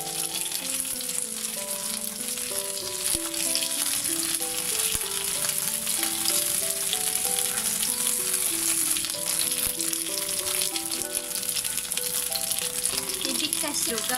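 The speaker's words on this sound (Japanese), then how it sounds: "大きい方が下に向いて、 中火で焼いて、焼き色ついたら" Meat-stuffed green peppers pan-fry meat side down over medium heat, producing a steady, even sizzle that runs throughout, with light background music playing underneath.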